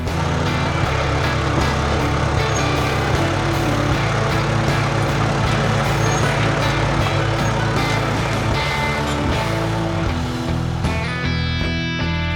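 Loud, steady engine rumble and clanking from a bulldozer levelling uneven land along the roadside, a continuous heavy machine drone with no pauses and no talk.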